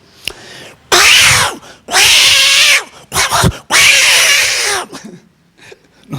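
Human voice imitating two cats fighting, with long snarling yowls and growls in three loud drawn-out bursts separated by short pauses and broken sputters.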